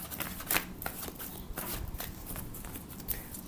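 Tarot cards are shuffled by hand in a quiet room, giving soft, rapid riffling and slapping bursts with brief pauses. The sound is close and fairly faint.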